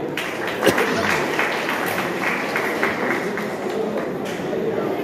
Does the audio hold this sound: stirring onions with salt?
no